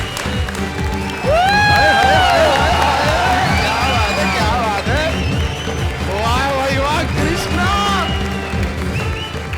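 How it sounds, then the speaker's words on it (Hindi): A studio audience on a televised Hindi comedy show claps and cheers in a loud, sustained burst that swells after the first second and carries on throughout, with whoops and voices rising over the applause. "बजा ताली।"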